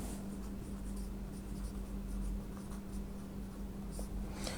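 A geometry proof about a circle and its tangent is handwritten in a maths lesson: continuous scratchy strokes of a pen on paper, close and fairly quiet, over a low steady hum with no talking.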